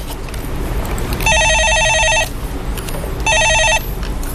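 Telephone ringing in two electronic bursts, each roughly a second long with a short pause between, loud and close over a steady background hiss.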